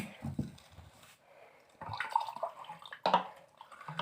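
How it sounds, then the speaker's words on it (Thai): Water poured into a glass of Ovaltine, a short close splash and trickle of liquid in bursts after a few soft handling bumps, with no voices. "เสร็จแล้วเราก็ใส่น้ำไปเลยนี่"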